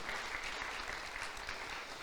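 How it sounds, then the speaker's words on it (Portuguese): Steady, dense applause from a church congregation fills the whole stretch, continuous and fairly even in loudness with no voices standing out. "Aplauda o Senhor por isso"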